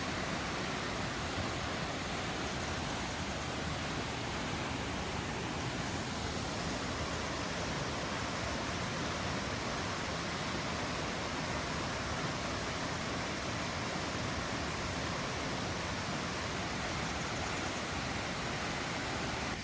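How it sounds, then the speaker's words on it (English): Waterfall at Silver Falls State Park, Oregon, pouring in a steady, dense broadband roar that holds loud and unchanging throughout with no voices. "You actually get to walk behind and beneath the waterfall and look up at its mighty flow."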